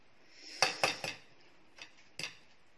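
Dishes of vegetables and curry are shifted around a table set for a rural Thai meal of rice noodles with fish-kidney curry, giving a few close, sharp clinks and knocks of plates and cutlery, with no voices.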